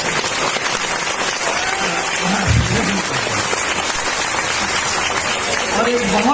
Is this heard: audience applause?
yes